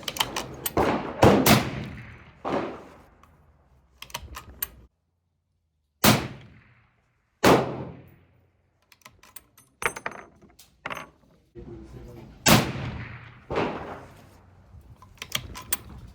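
A 35 Whelen rifle firing 200 grain Superformance rounds without a suppressor: a series of sharp, loud shots with ringing decays, some close together and others separated by pauses of a second or more.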